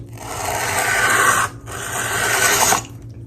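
A file rasps along a fixed-blade broadhead clamped loosely in a vise, two long, even strokes with a brief pause between them, loud and close with no talking.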